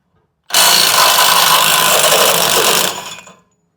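A 12 volt Milwaukee impact driver runs in one loud burst of about two and a half seconds, starting sharply, then trailing off as it stops, alone with no voices.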